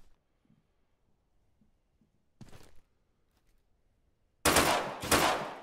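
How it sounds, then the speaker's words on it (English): Sniper rifle shots in the Deadside multiplayer shooter: a sharp crack around the middle, then a louder, longer double burst of gunfire near the end, with near silence between. "That's a damn sniper."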